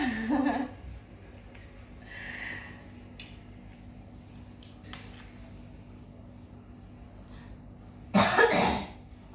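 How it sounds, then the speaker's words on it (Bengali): A person with an itchy throat coughs twice, once at the very start and again near the end, both close and loud, with quiet breathing and faint background sounds in between. "আমার গলাটা খুশখুশ করে কাশি হচ্ছে"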